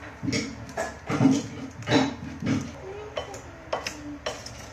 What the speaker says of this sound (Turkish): Önce bu kuru malzemeleri bir karıştıralım